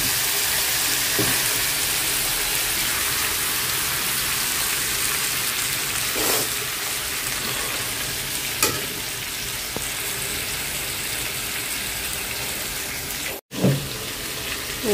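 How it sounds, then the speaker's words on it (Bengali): Fried sea fish sizzling loudly in a pan as hot water is poured in, a dense continuous hiss with a few faint stirring taps spread through it. "নাড়াচাড়া দিয়ে পানি দিয়ে দিই"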